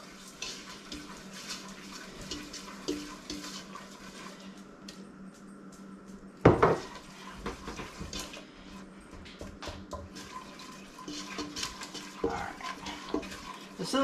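A stiff Wilton mixing tool stirs eggs into thick butterscotch brownie dough in a bowl, giving soft, irregular scraping and squelching close up, with one louder clatter partway through.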